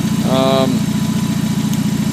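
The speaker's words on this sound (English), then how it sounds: "you can see the engine's running smooth there" A stock Jeep Wrangler Sport engine idles steadily up close, a smooth, even low rumble with a brief higher whine near the start.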